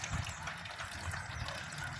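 Water running steadily into a backyard garden pond being filled, a soft continuous trickling wash with low gurgling underneath, fairly quiet and unbroken.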